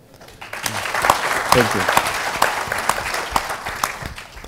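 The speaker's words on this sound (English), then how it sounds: "I think we should applaud him for that." An audience applauds steadily at a public event on governance and accountability in The Gambia, a dense wash of clapping lasting several seconds while a voice briefly speaks over it.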